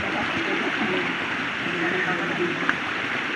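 A river flows beside a resting spot, a steady broadband rush of running water continuing evenly throughout, with a faint voice beneath.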